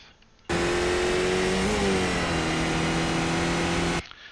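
A race car engine in the iRacing simulator, a Skip Barber car at Zandvoort, revs loud and steady, dips briefly as it shifts up into fourth gear, then climbs again under sustained throttle, starting and stopping abruptly.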